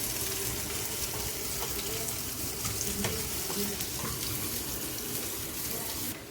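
Small onions sautéing in a pan for sambar give a steady, close sizzle with faint scraping and stirring. The sound holds even throughout and has no talk over it.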